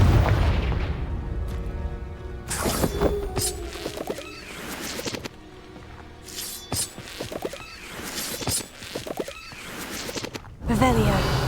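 Confringo blasting curse explosions in Hogwarts Legacy: several separate sharp booms and bursts spaced through the stretch, moderately loud, with spoken voice in between.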